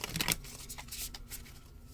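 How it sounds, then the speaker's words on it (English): Tarot cards are riffled and shuffled by hand at close range, a quick burst of crisp papery flutters followed by a few softer slides and taps, with no talking over it. "Let's give these hearts a good shuffle."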